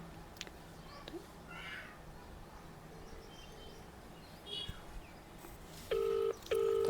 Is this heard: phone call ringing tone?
yes